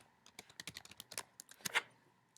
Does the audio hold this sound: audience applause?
no